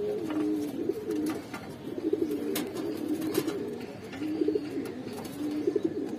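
A pair of Bagha Giribaz pigeons of the silver line coo close by. The low, throaty coos repeat in a steady rhythm over faint background noise.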